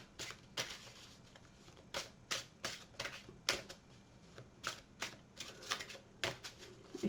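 Tarot cards are shuffled close by in a quiet room. Over a dozen crisp riffling bursts arrive at a fairly steady pace, each a short papery flutter, with no speech.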